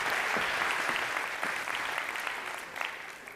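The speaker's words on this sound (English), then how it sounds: "one more round of applause for our panel" Audience applause for a conference panel at a nomads event, a steady wash of many hands clapping at moderate distance that holds for the whole stretch and thins slightly toward the end.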